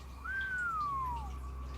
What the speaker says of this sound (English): a whistle can be heard in the background